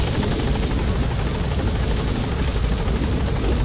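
Helicopter in the video game Metal Gear Solid V: The Phantom Pain, a steady loud whirring rotor drone with broadband engine noise held constant throughout, no voices on top.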